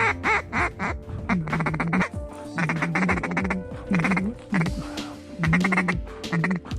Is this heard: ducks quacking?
yes